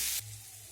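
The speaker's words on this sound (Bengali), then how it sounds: "সব কিছু আবারও আমি নেড়ে চেড়ে 2-3 মিনিটের মতো ভেজে নেব।" Dalia, mung dal and vegetables frying in a pan give a soft, brief sizzle, a faint hiss lasting under a second after a short louder burst at the start.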